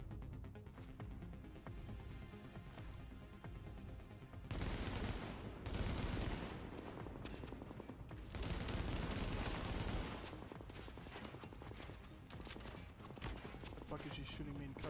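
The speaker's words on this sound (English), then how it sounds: "The fuck is she shooting me in cover?" Enemy gunfire in The Division, a third-person cover shooter, rattles in dense, continuous bursts, louder in stretches, over a steady game soundscape, with no speech.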